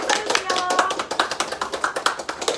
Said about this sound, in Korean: 함께 해주신 신재타 직원 여러분들께도 제가 박수 드리겠습니다. 박수도 많이